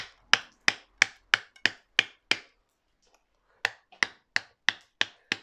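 Sharp hammer-and-chisel strikes on a garden rock while carving holes, about seven evenly spaced blows, a short pause, then another run of six, each crisp and close with no talk.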